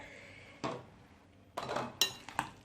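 Russian salad ingredients being mixed in a bowl, with a spoon scraping and clinking against the dish in a few separate bursts, fairly close and moderately loud, with no talking.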